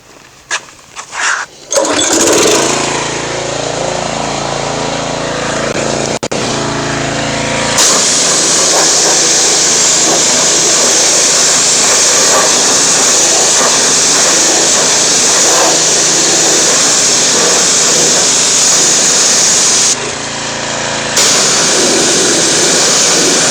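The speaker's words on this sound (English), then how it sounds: "Let me hit it with the pressure washer real quick." A pressure washer sprays a wire wheel. A loud, continuous motorized hiss and drone follows a few short bursts and a brief pause, then keeps running almost unbroken at close range.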